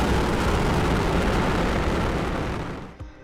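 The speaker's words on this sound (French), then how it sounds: "Ignition, liftoff. Vehicle is pitching downrange." A SpaceX Falcon 9 rocket at liftoff, a loud continuous roaring rumble that holds steady and then fades toward the end.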